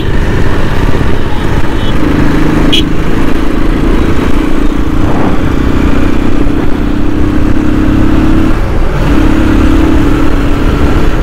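A motorcycle rides along a city road, its engine droning steadily up close with shifting pitch and passing traffic noise around it.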